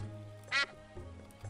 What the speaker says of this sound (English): We can keep using him too and making him quack.